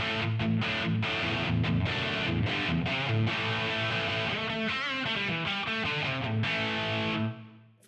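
A distorted electric guitar plays through a Quad Cortex Brit 900 lead amp model, a dense, driven Marshall-style riff of fast picked chords and notes that rings out, then stops near the end.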